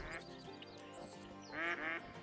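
Hen ducks quack on a New England mountain hunt, a few short nasal calls in quick succession, clear and moderately close, with a louder double quack near the end.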